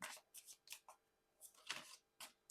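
Quiet, close-up riffling of playing cards being shuffled in several quick bursts with short gaps between them.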